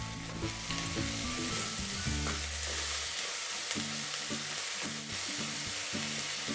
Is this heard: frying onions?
yes